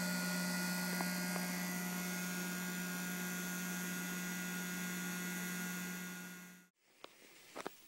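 A Sony BVH-500A videotape recorder's spinning scanner gives off a steady, fairly quiet whine and hum that holds evenly for several seconds. It then cuts off abruptly, leaving a few faint clicks and rustles.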